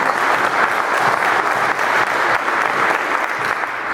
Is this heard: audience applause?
yes